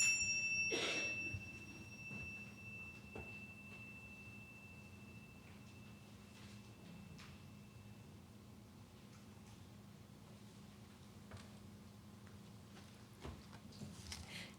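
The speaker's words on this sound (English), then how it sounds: "let us center our hearts and minds with the ringing of the chimes" A single bright chime rings out near the start, its tone lingering and fading into a long, quiet stretch with faint ticks.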